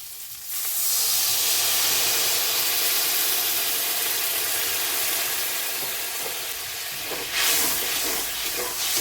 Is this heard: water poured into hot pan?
yes